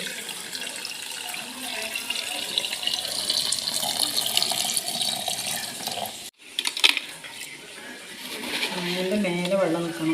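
Water is poured steadily over mangoes, splashing, breaks off for a moment, then resumes with light clinks and a voice speaking underneath.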